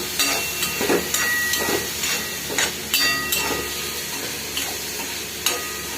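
Ginger sautéing in a pan with oil for pea gravy, a steady close sizzle broken by repeated scraping and stirring strokes of a spoon against the pan.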